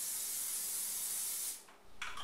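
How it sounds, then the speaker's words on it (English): Pam nonstick cooking spray hisses steadily onto a cake pan in a kitchen for about a second and a half, then a short second burst follows, close and clear with no talk. "We're going to spray this with your Pam nonstick spray."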